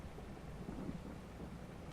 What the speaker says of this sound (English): Oh, quit raining.